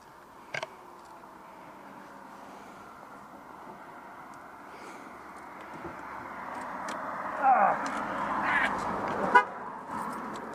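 The horn of an older car with small cosmetic wear honks, a short tone heard nearby, with people talking around it and a few other brief honks and bumps later on.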